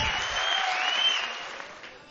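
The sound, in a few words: audience applause at a mushaira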